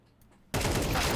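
A gunshot in a Counter-Strike esports match, a single loud, sudden crack close to the listener that cuts into a quiet moment and rings out.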